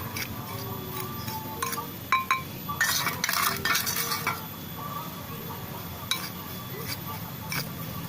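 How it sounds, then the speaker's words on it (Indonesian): Borax is stirred into a metal-recovery wastewater mixture in a container, producing scattered clinks and scraping taps against the vessel, busiest in the middle, over a low background hum. "Ini borak, kita aduk rata."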